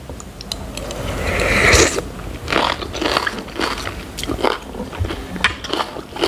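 Someone bites and chews spicy raw salmon salad, with a few close, crisp bites followed by a run of wet, crunchy chewing sounds, no talking.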